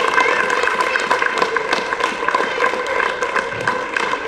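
A crowd claps steadily at a ceremony in Chandigarh, a dense, continuous patter of applause that stays loud and even throughout.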